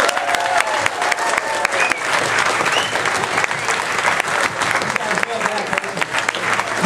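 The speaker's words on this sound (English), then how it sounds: "Give them one more round of applause." Loud, dense applause and crowd noise from an audience cheering a band of young performers, sustained clapping throughout with occasional shouts and whistles mixed in.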